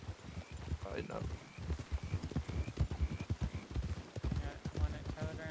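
Horses' hooves clip-clop at a walk and trot in a foggy town in the Red Dead Redemption 2 roleplay world, a soft, steady patter of several animals under a man's quiet radio-style talk.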